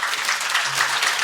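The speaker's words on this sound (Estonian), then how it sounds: "teeme neile ühe vahva aplausi" An audience at an outdoor church summer conference opening service gives a dense, steady round of applause, many hands clapping together in a full, even wash without pause.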